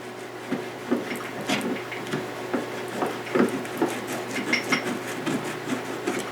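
An abrasive cloth wrapped around a magic marker rubbed back and forth inside a Glock pistol's trigger guard, a soft rhythmic scraping with regular strokes, close and fairly quiet.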